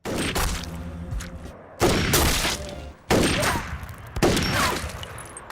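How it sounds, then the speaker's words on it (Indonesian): Four loud, sharp blasts of long rifle gunfire in a film scene, each a sudden crack followed by a ringing tail, spaced about a second apart, with no talk. "Kemudian Gil dan Lauren langsung menghabisi kedua Jamet itu dengan senapan laras panjang."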